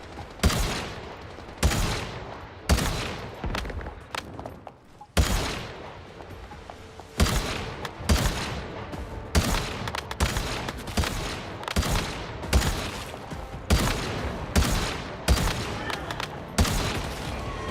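Repeated gunshots from shooting in the video game Once Human, sharp loud bursts in an irregular rhythm across the whole stretch, standing alone with no talk.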